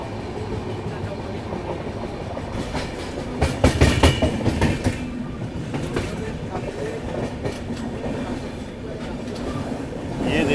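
The Dhauli Express runs between Kolkata and Puri with a steady rumbling roar of carriages on the tracks. A louder burst of wheel clatter comes through the middle, heard from on board.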